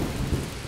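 In the video game The Touryst, steady rain pours with a dense, even hiss beneath a low thunder rumble during a brief stormy moment.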